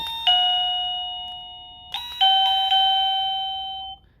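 A wireless doorbell chimes a short electronic ding-dong melody, bright tones ringing out and decaying, played twice in quick succession without any voices.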